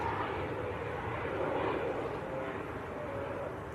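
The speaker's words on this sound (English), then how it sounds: "Another very nice aircraft taxiing out as well. The Hainan A330 going out to Beijing." A Hainan Airlines Airbus A330 taxis out at Manchester Airport, its engines a steady, somewhat distant broadband roar and whine that holds evenly throughout.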